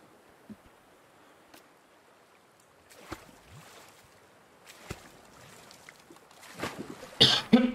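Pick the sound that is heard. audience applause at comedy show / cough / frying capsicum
cough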